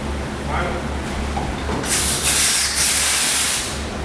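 Spray gun, a cup-gun, applying toner to faux-wood door faces, a loud airy hiss that starts partway in and sprays in bursts over low background hum.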